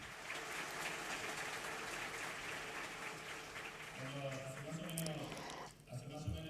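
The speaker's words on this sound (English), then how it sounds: "A big round of applause for José." Broad, dense applause from a keynote conference audience fills the hall steadily, then thins out as a voice begins speaking near the end.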